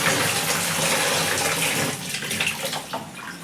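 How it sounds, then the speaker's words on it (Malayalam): Fish, sardines for a curry, are rinsed under a strong stream of running tap water that gushes loudly, then splashes more unevenly as hands move them. "മീൻ കഴുകണം."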